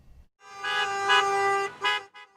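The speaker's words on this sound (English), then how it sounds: "drove their cars down the street one after the other, waving flags and honking their horns" Car horns honk during a street parade of Trump supporters' vehicles waving flags on Long Island, New York, with one long sustained blast followed by a shorter toot and a brief third one, loud and fairly close.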